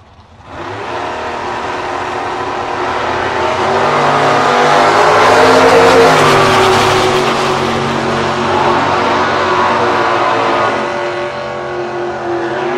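A 1967 Plymouth drag race car launches down the strip, its engine roaring loud and close and building into a sustained, rising wail that holds for several seconds before easing slightly, with no voices over it.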